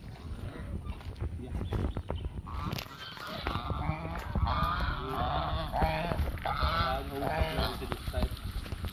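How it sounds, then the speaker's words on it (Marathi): Swans and geese honk near ducks and hens in a farmyard, repeated overlapping calls at moderate distance, with a person speaking underneath. "राजहंस दिसत आहेत."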